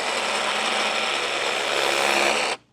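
Turtle Wax Pure Bead spray coating misted onto a car's paintwork in one steady, close hiss lasting about two and a half seconds, then cutting off abruptly.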